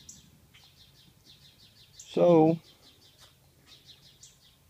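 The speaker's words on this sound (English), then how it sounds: "then the birds you hear in the background will start pecking at them." Small birds in a garden chirp in rapid repeated bursts throughout, moderately close, while someone briefly speaks in the middle.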